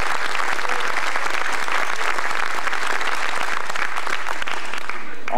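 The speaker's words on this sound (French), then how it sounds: "je pense qu'il mérite vos applaudissements" Audience at a corporate film festival in Biarritz breaking into loud, sustained applause, dense clapping filling the room steadily for several seconds.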